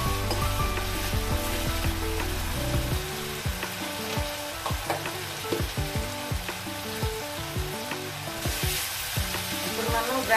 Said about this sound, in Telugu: అల్లం వెల్లుల్లి పచ్చివాసన పోయే వరకు ఫ్రై చేసుకుందాం.